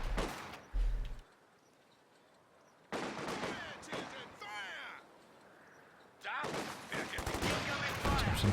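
Bursts of rifle and machine-gun fire crackle in a Company of Heroes 2 battle, sharp rapid volleys separated by quieter gaps, with a commentator talking over the action.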